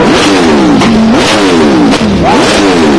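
A Ducati V4S motorcycle engine is blipped repeatedly at close range, loud sharp revs rising and falling in quick succession, about four throttle bursts with no talk.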